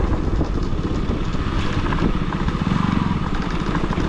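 A KTM Duke 125 motorcycle runs at close range with a fresh air filter fitted, giving a steady, smooth engine drone with a dense rumble and some wind buffeting.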